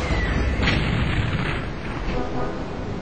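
A weapon fired at an alien in the video game Terror From The Deep, a loud deep booming blast with a rumbling tail, and a voice talking over it.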